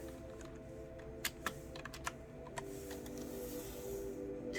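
An address is typed on a computer keyboard, a quick burst of close key clicks over a steady low hum, then a few final taps.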